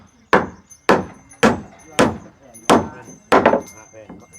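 Nails are driven into wooden boards with a hammer on an outdoor building site at dusk, six sharp, evenly spaced blows about half a second apart, loud and close, each ringing briefly.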